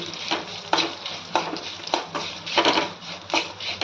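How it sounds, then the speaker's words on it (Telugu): Dried red chillies, turmeric, garlic and tamarind frying in a pan for a raw coconut chutney, with a steady sizzle broken by rhythmic scraping stirs, close and fairly loud. "కొన్ని ఎండుమిరపకాయలు, కొంచెం అంత పసుపు, ఒక ఎల్లిగడ్డ, ఒక చింతపండు రిక్క అన్నీ వేసుకొని మంచిగా ఫ్రై చేసుకోవాలి."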